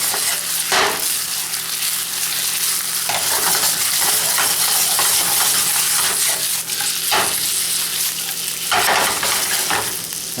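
Small chicken cubes for chicken a la Greek sizzle and brown in a hot pan with a constant crackling hiss, broken by several sharp scraping bursts as the pieces are stirred or turned.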